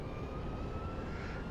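Steady, loud engine roar of an A-10 Warthog jet on a touch-and-go approach in the rain, a continuous broadband rumble with a faint high whine running under it.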